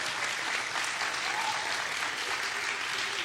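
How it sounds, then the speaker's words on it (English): A live audience at an Oklahoma County district attorney candidate debate applauds steadily, a dense wash of clapping sustained at even loudness from start to finish with no voices over it. "Round of applause to both candidates for their opening statements"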